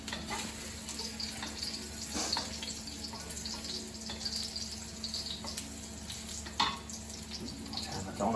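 Mushrooms partially cooking in a pan over low heat, giving a steady soft sizzle with faint crackles and occasional light clinks, constant and close throughout.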